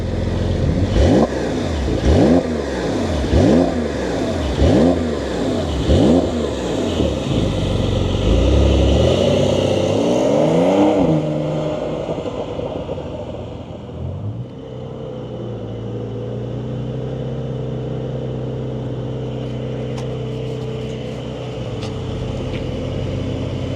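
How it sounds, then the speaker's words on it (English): A 2025 Porsche 911 Carrera S with sport exhaust fires up and is revved hard, about seven rising and falling blips at first. It then settles into a steady, loud idle burble close by, with no talk. "we got that sport exhaust, let's fire it up and hear what it sounds like."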